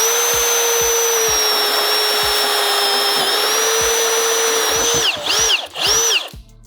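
A Milwaukee M18 Fuel Super Hawg right angle drill bores a hole with a steady, loud high whine and rhythmic low thumps, then revs down and spins up in short bursts at the end.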